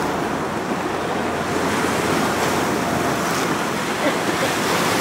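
Sea waves wash onto the shore in a steady, loud roar of surf with wind buffeting the microphone, a continuous wash with no clear breaks and no talk over it.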